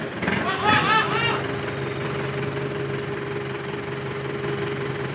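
A tractor engine runs at a steady, low idle-like drone in a rain-soaked, muddy field, with a voice calling out briefly near the start before the engine continues alone.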